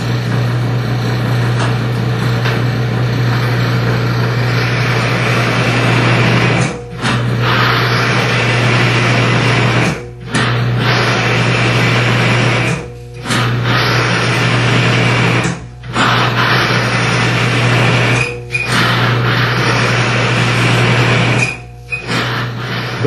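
A cross axis oil test machine runs with engine oil on a metal bearing, giving a loud, steady mechanical drone with a low hum, interrupted every few seconds by brief dips in the noise.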